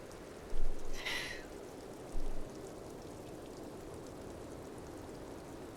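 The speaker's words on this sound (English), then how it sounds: "It's still raining!" Steady rain in the game Disco Elysium hisses softly and evenly throughout, a constant wash of falling water with a couple of brief louder rustles near the start.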